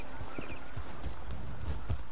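Horse hooves clip-clop at a steady walking rhythm in The Elder Scrolls Online, close and fairly loud over a low ambient rumble, with several evenly spaced thuds.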